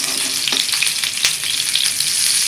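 Stuffed tomatoes sizzle and fry in a flat pan as they are tossed, giving a loud, steady crackle with sharp bursts of spattering. There is no speech.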